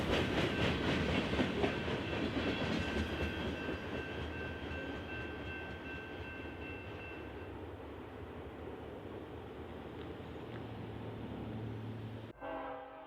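BNSF freight train rolling along the Thayer North Subdivision main line near Springfield, a loud steady rumble of wheels and cars passing close with a sustained horn blast early on, fading slightly before an abrupt cut near the end.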